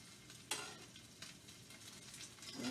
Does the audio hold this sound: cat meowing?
no